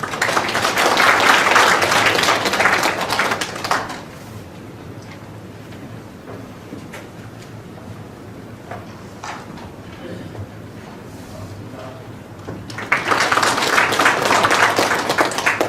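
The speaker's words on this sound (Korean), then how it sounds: "박수로 맞이해주시기 바랍니다" An audience at a forum on Winter Olympics volunteering applauds to welcome a speaker, with a burst of clapping that fades into quiet room noise and then swells again near the end.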